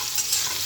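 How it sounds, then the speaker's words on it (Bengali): Ridge gourd slices being stirred as they fry in oil in a pan, giving a brief, steady close-up sizzle and scraping with no speech. "দেখুন এবার লেড়ে দেবো।"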